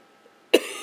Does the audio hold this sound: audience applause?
no